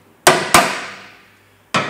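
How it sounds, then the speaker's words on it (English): Gears inside a 2012 Ford Focus Mk3 1.6-litre five-speed manual gearbox casing drop with three sharp metallic clanks, two in quick succession and a third after a pause, each ringing out and decaying, close and loud with no talk. "the actual gears were coming up, lifting up with the casing, then all of a sudden they just dropped"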